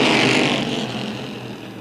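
Race cars roar loudly and steadily around Tioga Motorsports Park as racing resumes on lap five, a dense engine wash that fades slightly over the short stretch, with no talk.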